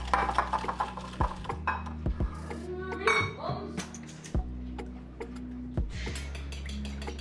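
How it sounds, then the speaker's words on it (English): Sugar being whisked into soft butter in a bowl, heard as a run of light metal-on-bowl clinks and scrapes, fairly close, some quicker bursts and pauses, with no talking over it. "Add 3 tablespoons sugar and whisk again for a minute or till well blended"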